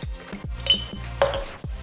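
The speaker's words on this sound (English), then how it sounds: "First, add ice to your highball glass." Ice cubes dropping into a highball glass for a Tequila Sunrise, a run of bright, close glassy clinks and knocks, with two sharper ringing hits standing out.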